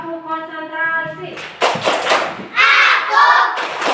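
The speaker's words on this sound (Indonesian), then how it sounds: "Tepuk konsentrasi." Primary-school pupils do a rhythmic concentration clap routine in a classroom, with bursts of clapping mixed into loud group chanting after a single teacher's voice.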